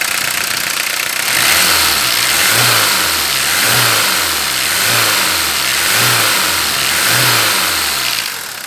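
A 1993 Citroën ZX Volcane 1.9 turbodiesel engine revs in a steady rhythm, rising and falling about once a second over a loud, rough running drone, close by.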